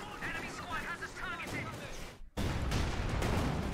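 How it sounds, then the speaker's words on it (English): Mortar fire in the video game Company of Heroes 2: after a brief silence, a loud, sustained broadband blast erupts and rumbles on, preceded by busy battle noise with game voices. "they have mortars"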